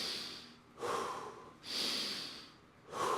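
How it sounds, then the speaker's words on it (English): Big breaths drawn in and pushed out through the nose during recovery after a workout of bike, deadlifts and pull-ups, three or four loud, close airy surges in a slow steady rhythm with no talking. "If you can get some big inhales through your nose"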